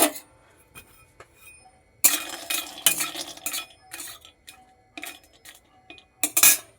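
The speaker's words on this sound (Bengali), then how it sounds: "একদম হালকাভাবে নেড়ে নেব।" Peanuts and whole dried red chillies stirred in a pan with a metal spoon, giving bursts of scraping and clinking in an irregular rhythm, close and moderately loud, separated by quieter pauses.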